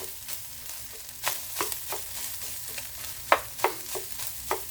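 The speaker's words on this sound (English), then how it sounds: "just dump it in this pan here with the sausage. All right. Give it a little stir." Sausage and coleslaw mix stirred in a frying pan on a small burner, with a steady sizzle and a series of scraping spoon strokes, a few sharper clacks standing out near the end.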